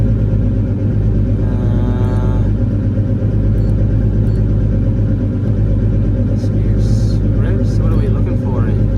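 A re-powered car idles at about 500 rpm right after its new engine starts: a steady, loud, low rumble with an even throb throughout, while someone talks briefly over it.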